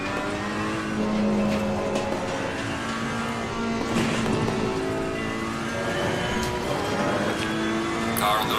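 A GT3 race car in a sim racing game at Monza passes on the left, a steady high engine drone with shifting pitch and brief tire noise, close and continuous over background game sound.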